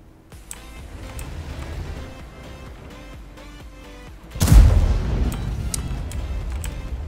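Tank cannon fire in the World of Tanks video game, with tank destroyers on the field: soft ticking and mechanical clatter first, then a loud booming shot about midway that rumbles and decays.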